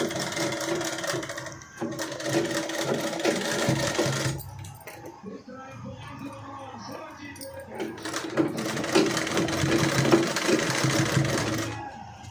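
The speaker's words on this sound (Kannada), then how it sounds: "ಸೊ ನಾನಿವಾಗ ಇದಕ್ಕೆ ಲೇಸ್ ಅಟ್ಯಾಚ್ ಮಾಡ್ತಾಯಿದ್ದೀನಿ" A sewing machine runs in two long steady bursts with a pause between them, stitching lace onto a blouse, its rapid mechanical whir close and loud while a person talks over it.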